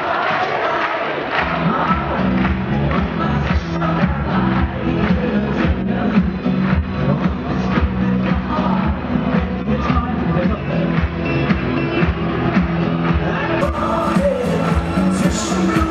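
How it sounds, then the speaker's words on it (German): A large festival crowd at the Tag der Niedersachsen 2013 opening claps and cheers steadily, a dense roar of hands and voices with music-like tones underneath. "Applaus"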